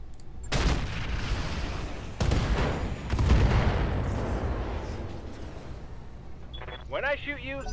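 Heavy weapons fire from mechs in the Roguetech mod of the BattleTech game: loud booming blasts at about 0.5, 2.2 and 3.1 seconds, each with a long rumbling roar, then a short electronic warbling tone near the end.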